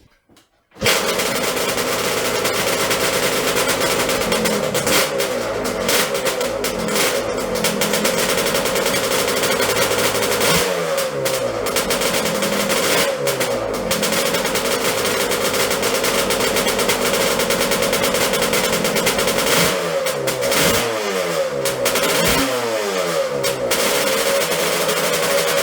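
Methanol-fueled Yamaha Banshee 521 Supercub two-stroke engine on a dyno starts abruptly and runs loud and harsh with rapid crackling pops, wavering through repeated revs and throttle bursts, with no talking.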